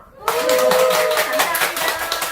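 Audience at a talk concert gives a round of applause to the guest speaker, a dense burst of clapping starting abruptly and holding steady, with a voice faintly audible underneath.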